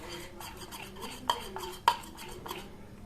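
A spoon works lemon juice and yogurt into a paste in a bowl, giving soft, steady scraping strokes with a few sharper clinks against the side, quiet and close with no talk.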